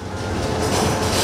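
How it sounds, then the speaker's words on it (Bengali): A passenger train pulls out of a station at holiday time, its wheels rumbling and rail joints clacking in a steady, loud, close roar. "ট্রেন।"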